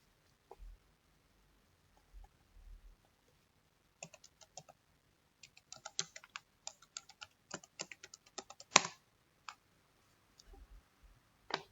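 Keystrokes on a computer keyboard as a password is entered: quiet, irregular bursts of light clicks with a short flurry of faster taps in the middle, ending in a firmer key press. No one talks.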